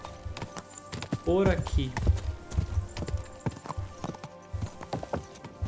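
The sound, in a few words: horse hooves while riding, from video game Kingdom Come: Deliverance 2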